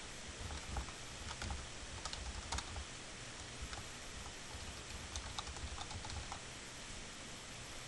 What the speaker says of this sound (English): Then type in the email address of the mailbox that you're trying to add.